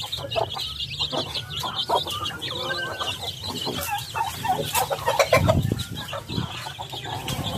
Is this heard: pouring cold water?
no